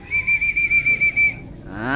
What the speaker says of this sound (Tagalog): mayroon palang hinihintay na pito